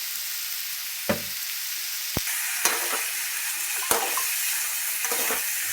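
Chickpeas fry in hot oil with a steady, close sizzle throughout. A few sharp clicks and taps come from the pan or a spoon, and no one speaks.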